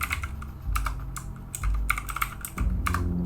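Code being typed on a computer keyboard, close and loud rapid keystrokes in uneven bursts with brief pauses and a low background hum.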